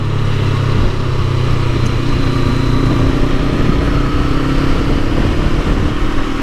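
Honda NX 500 motorcycle engine held at a steady, smooth drone under gentle throttle on an open road, loud and continuous with wind rush and no talking.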